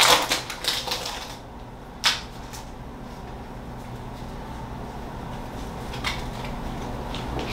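Pokémon trading card booster packs from a Sword & Shield trainer box being torn open and handled, with crinkly foil rustles and a sharp rip near the start, then quieter shuffling of wrappers and cards.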